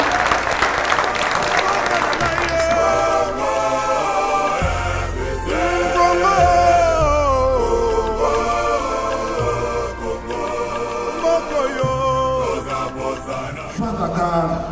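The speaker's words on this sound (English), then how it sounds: "Give a round of applause, everybody." Crowd applause at a Congo independence day celebration, a dense steady clapping texture mixed with loud music and singing, with voices throughout.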